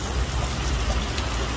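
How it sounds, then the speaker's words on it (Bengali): Rain falls in Dubai, a brief, even wash of dense patter heard close and steady for under two seconds. "আজকে পুরো দিন বৃষ্টি আছে"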